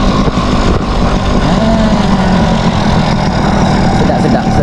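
A Yamaha Cup Y80 motorcycle's small engine running close by, a loud, steady, buzzy putter with slight rhythmic fluctuation and no pauses.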